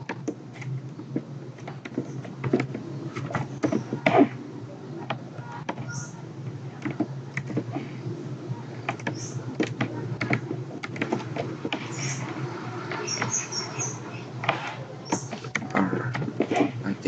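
An answer being typed on a computer keyboard, a long run of close, quick key clicks in irregular bursts with a few louder strikes and brief pauses, and no voices.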